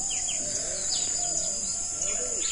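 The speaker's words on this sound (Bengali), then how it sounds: "সকালবেলা পাখির শব্দ একবারে কলকল নইছে" Morning birdsong in a village, with several birds chirping and calling repeatedly over a constant high insect-like drone, moderately close and with no talk.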